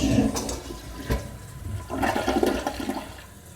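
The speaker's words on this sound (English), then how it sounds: "Put it in here and flush." A toilet flushes after crumpled paper is dropped in during a clog test, its rushing water surging close and loud, easing briefly, then swirling again as the bowl drains and refills, with no talking.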